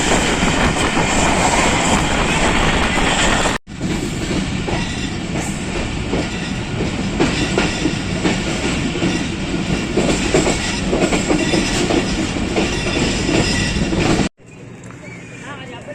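The Jaffar Express passenger train rolls into Jhelum station with a loud, steady rumble of wheels on rails and rhythmic clatter from the carriages. The sound cuts out briefly twice.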